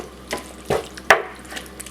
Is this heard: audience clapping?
no